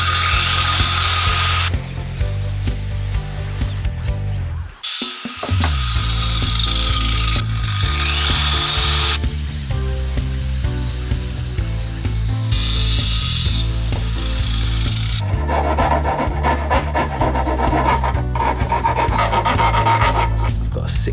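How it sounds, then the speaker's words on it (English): Hand saw cutting through a metal pipe, loud close rhythmic rasping strokes continuing throughout with a brief pause partway, harsh grinding scrape dominating. "So let's try cutting the pipe."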